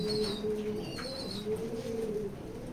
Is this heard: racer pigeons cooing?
yes